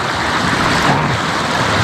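A car in a racing video game drives through a river, giving a loud, steady rush of splashing water noise with no pauses and no talking.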